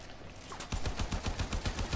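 Rapid gunfire from a distant player in the online shooter Warframe, a steady rhythmic burst of shots repeating about every quarter second after a short quiet start, moderately loud and with no talking over it.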